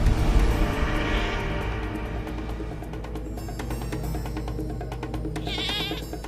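A lone goat bleats over a steady low background hum, several drawn-out quavering calls that are loudest near the start, with a final high wavering bleat at the end.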